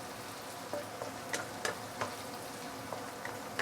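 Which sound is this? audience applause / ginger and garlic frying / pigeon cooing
ginger and garlic frying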